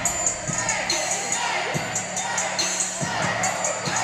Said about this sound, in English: The crowd rocking and rolling and enjoying it